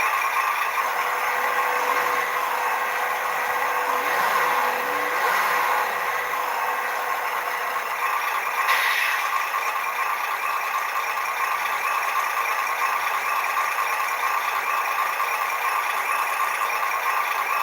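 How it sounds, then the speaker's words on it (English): A scale RC truck fitted with an electronic motor sound module, likely mounted on a small ramp on a workbench, runs with a steady engine-like drone and light rattle throughout, close and moderately loud with no talking. "That motor noise."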